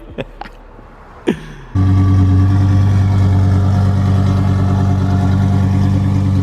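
A Lamborghini engine fires up after a few sharp clicks and a brief crank, then settles into a loud, steady, rumbling idle with a rich harmonic drone that continues unbroken, with no voices.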